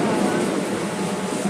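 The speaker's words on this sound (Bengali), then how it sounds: "ট্রেনটা এবার যাবে।" A metro train at Esplanade station in Kolkata gives off a continuous, fairly loud rumble and hum, with indistinct voices mixed in.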